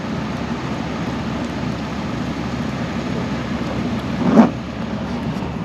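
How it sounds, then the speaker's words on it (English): Steady, dense hiss of falling rain fills the scene continuously, with a brief louder thump or rumble rising near the end. "Still raining."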